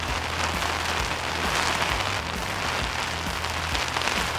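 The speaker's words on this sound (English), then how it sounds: "the howling wind, the pouring rain." Heavy rain pours down in blustery weather at a Lost City lookout near Lithgow, New South Wales, a dense continuous hiss of drops hammering surfaces close by, with no voices.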